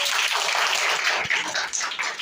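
A school audience claps for a student actor during a children's play on child rights, dense steady applause filling the room throughout with no talk.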